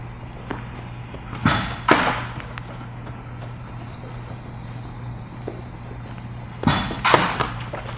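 A Jugs Field General football machine fires a ball twice, each a sharp thump-whoosh close by, with a steady low mechanical hum running beneath on a practice field.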